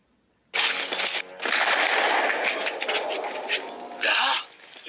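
Firecrackers burst in a rapid, dense crackling volley during a firecracker contest, loud and continuous with a short pause and a final sharp flurry, no voices over it.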